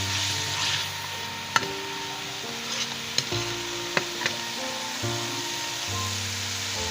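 Onions and chilli paste frying for street-style mutton liver (kaleji) fry, a constant sizzle broken by intermittent stirring scrapes and a few sharp knocks of the utensil, nearby, with no talking.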